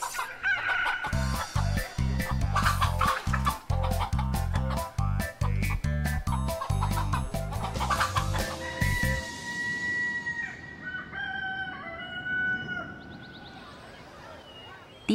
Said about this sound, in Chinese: 养足2年的母鸡已经是生活阅历相当丰富的成年鸡，要想抓到它，